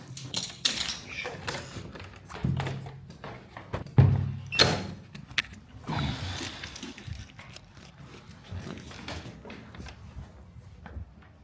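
A hotel room door in Hong Kong being pushed shut, with a few sharp knocks and rattles of the latch and frame among quieter shuffling, close by and fairly faint overall.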